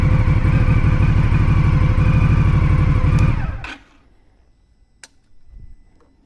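A 2023 Indian Scout Rogue motorcycle idles with a loud, close, rhythmic V-twin thrum, then the engine cuts off abruptly, leaving near silence with a couple of faint clicks and a soft rustle.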